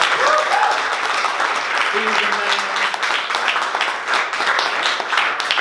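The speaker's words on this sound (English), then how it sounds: "we owe Mike a huge round of applause" A crowd applauds steadily for Mike, a dense sustained round of clapping with brief voices and a cheer heard over it.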